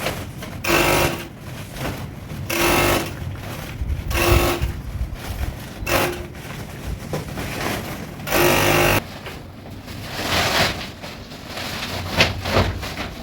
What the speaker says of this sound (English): So let's give it a neat finishing by overlocking it.